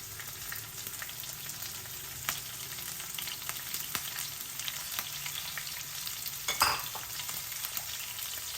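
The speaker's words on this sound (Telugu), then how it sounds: "మన అల్లం పచ్చిమిరపకాయలు మంచిగా వేగిపోయాయి" Ginger and green chillies fry in oil in a pan, making a steady, soft sizzle throughout with a few light scrapes and one brief clatter near the end.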